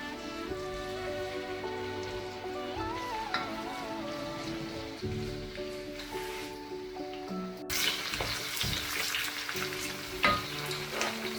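Chopped garlic and onions fry in a pan for a beef and cabbage stir fry, a steady close sizzle running the whole time beneath background music, with a louder burst of crackling partway through.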